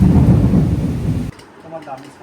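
Torrential rain and rolling thunder roar loudly, then cut off abruptly partway through, leaving a quiet stretch with a faint voice in the background.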